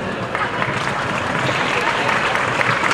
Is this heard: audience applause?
yes